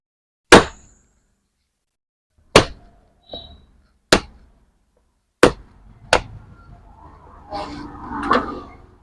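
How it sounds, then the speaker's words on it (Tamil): Hard-shelled bael (vilvam) fruit being cracked open: five or six sharp, loud knocks at irregular intervals, each a brief crack with a quick decay, then a rougher rustling crunch near the end as the shell gives way. "இப்போ நான் இதை உடைச்சு ஜூஸ் பண்ணி காட்டுறேன்."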